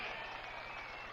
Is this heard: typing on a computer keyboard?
no